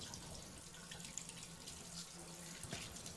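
Water gushes steadily from household taps being flushed through, a continuous even splashing into a sink with no talk.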